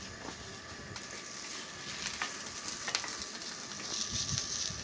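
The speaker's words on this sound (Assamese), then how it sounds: "এইখিনি তেল পিয়াজত আগতে ফ্ৰাই কৰি ল'লে" Rice and chopped onion frying in hot oil in a pan give off a steady, close sizzle with scattered crackles and pops. The sound is continuous and moderately loud throughout, with no talk.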